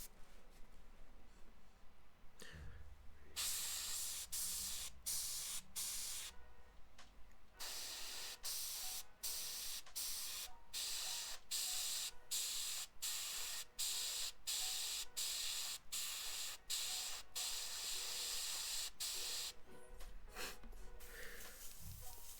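An airbrush spraying paint onto a Kingdom Death miniature, heard as repeated close bursts of loud hiss, short trigger pulls in a fairly regular rhythm with brief quiet gaps between them.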